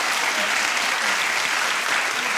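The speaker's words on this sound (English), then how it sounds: "Clap if you think it's a good one." Studio audience at a daytime talk show claps loudly and continuously, a thick, even wash of many hands with no break and no talk over it.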